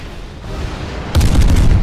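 A warship's gun battery fires in the naval video game Steel Ocean: after a low rumbling lull comes a sudden heavy boom, followed by loud, sustained battle noise.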